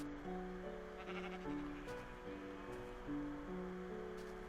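Sheep in a video game bleat repeatedly, several drawn-out tonal calls overlapping one another against a steady background wash, with no one talking.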